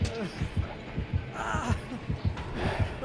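Rhythmic heartbeat thumps from the horror video game Dead by Daylight, a steady low double-pulse throb repeating under game sounds and faint talk.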